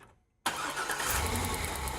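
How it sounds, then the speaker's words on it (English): A car engine being tested for an intermittent spark fault is silent at first, then catches abruptly about half a second in and settles into a loud, steady running roar. "So why don't we go ahead and crank her up?"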